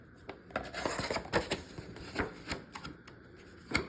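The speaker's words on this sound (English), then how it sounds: "I don't know if you can hear the paper." Thick paper pages flip and slap one after another in an uneven series of crisp rustles and snaps, close and fairly quiet.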